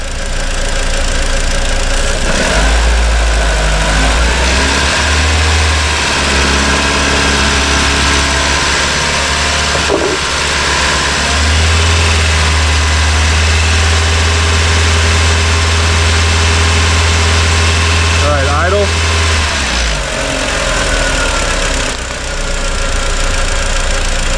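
A 2004 VW Jetta with the 1.8T engine runs close up as it is revved and held around 2,500 RPM, producing a loud, continuous, steady engine drone with slight knocking texture, with brief shifts in level.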